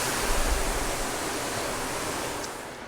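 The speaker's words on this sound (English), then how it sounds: "we're going to put it on the grill to sear in all of those marinade flavors." A marinated steak sears on a hot grill, giving a steady, dense sizzle close by that holds evenly for a few seconds and fades slightly at the end, with no voices.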